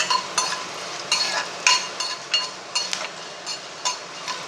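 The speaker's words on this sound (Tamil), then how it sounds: "ஜீரகம், மிளகு, பட்டை, இந்த கிராம்பு, ஜீரகம் இதெல்லாம் போட்டு ஃப்ரை பண்ணிக்குவோம்." Cumin, pepper, cinnamon and cloves fry in ghee for a chicken ghee roast, a soft steady sizzle broken by frequent sharp clinks and scrapes of a spoon stirring against the pan, close and alone.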